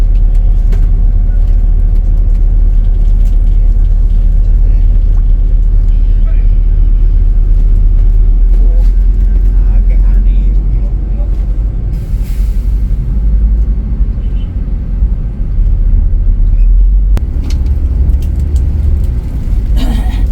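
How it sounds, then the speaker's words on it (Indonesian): A big M-Trans coach pulling out of its garage in Denpasar, a loud low engine rumble heard steadily from inside the bus, with occasional knocks and rattles and a voice talking over it. "bus diberangkatkan dari garasi M-Trans Denpasar"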